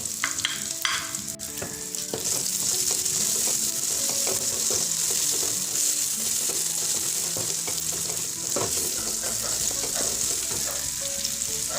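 Green chilies are stir-fried with wilted onions in a pan, a close, steady sizzle broken by frequent clicks and scrapes of the spatula against the metal, with no talking.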